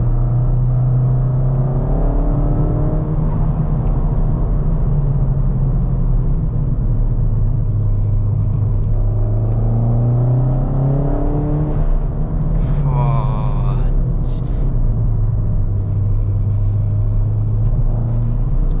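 A Ford Fiesta ST200 with a Revo Stage 2 tune accelerates from inside the cabin, its engine drone rising and falling through gear changes, loud and continuous for nearly twenty seconds.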